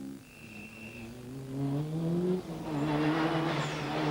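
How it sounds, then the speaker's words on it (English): Mazda rally car on a special stage at Rally Poland 1991, its engine note climbing steadily as it accelerates past, loud and near, with gravel and road noise rising toward the end. "Michael Sundström in the Mazda. And he's going well at the moment"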